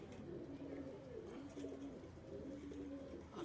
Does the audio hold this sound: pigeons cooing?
yes